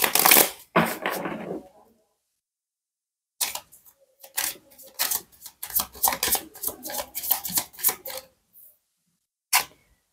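A deck of tarot cards is shuffled by hand in quick bursts of crisp riffling and flicking, close and clear, separated by short silent pauses; no voices.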